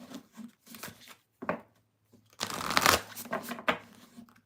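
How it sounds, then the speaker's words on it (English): Tarot cards being shuffled by hand in repeated riffling bursts, with a long dense flurry in the middle; crisp and close, with no talk over it. "All right, we're going to shuffle and move into Libra while I read the chat."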